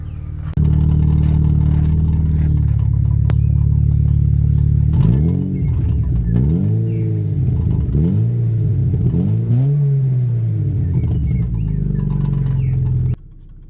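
A Volvo S40 engine idles steadily up close, then is revved four times in quick succession before settling back to idle and cutting off, with no talk over it.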